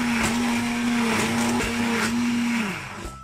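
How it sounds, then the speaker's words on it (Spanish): A hand blender whirs loudly and steadily for a few seconds while pureeing apples, its motor pitch dipping slightly before winding down at the end. "hemos cogido esta batidora porque con la otra no podíamos batir las manzanas y las estamos triturando."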